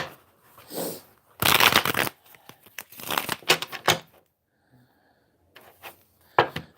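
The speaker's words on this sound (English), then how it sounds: "I'm going to ask that question direct and reshuffle" Tarot cards are reshuffled by hand in several crisp riffling bursts separated by short pauses, close and fairly loud, with no talking.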